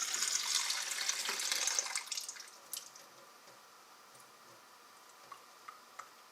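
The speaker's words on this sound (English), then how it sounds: "I'm going to put in some water." Water poured into a metal can rushes and splashes for about two seconds, then trails off into a few scattered drips and small clinks in a quiet room.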